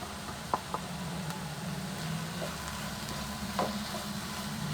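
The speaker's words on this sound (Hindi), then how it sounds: "बस इतनी देर हम इसको फ्राई करेंगे, थोड़ी सी नरम हो जाए, सॉफ्ट हो जाए बिल्कुल।" Tomatoes and vegetables frying in a pan for veg strips, a steady close sizzle running throughout with a few light knocks and stirring scrapes, no talking.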